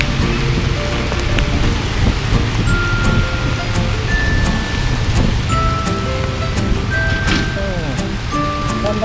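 Rain during a road trip, heard as a loud, steady hiss of falling rain and spattering drops inside a moving car, with people talking over it and occasional sharper taps.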